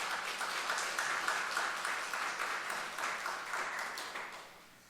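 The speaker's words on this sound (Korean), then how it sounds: "서로 격려하고 축복하는 의미로 한번 박수 한번 보내주시기 바랍니다" A church congregation applauding during a Sunday worship service, a steady wash of many hands clapping at moderate distance that fades out over the last second.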